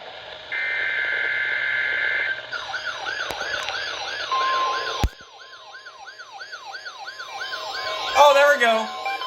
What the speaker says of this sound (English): This concludes the tone alarm test.